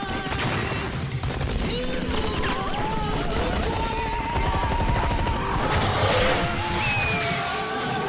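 Gunfire from a Borderlands 2 video game trailer: dense, continuous shooting and crashing blasts layered with music and voices, loud and busy throughout.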